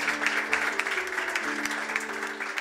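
Steady applause from a church congregation, dense clapping filling the whole stretch with no pauses.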